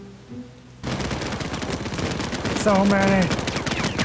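Rapid sniper and automatic gunfire from the PAYDAY 2 video game crackles loudly and continuously, with a brief voice speaking over the shots.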